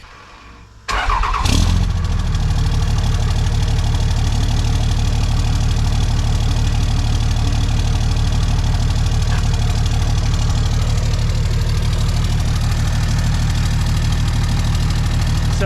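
A Dodge Ram with a Cummins 5.9 diesel and MBRP performance exhaust cold starts after a brief crank, then settles into a steady, loud, knocking diesel idle held close and continuous.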